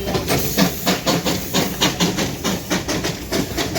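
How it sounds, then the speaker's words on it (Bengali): A coal-powered Darjeeling toy train releases steam in a rapid rhythmic chuffing hiss, with regular pulsing bursts close by and steady loudness throughout, no talking. "আর এটা হচ্ছে টয় ট্রেন, আর এটা কয়লাতে চলে।"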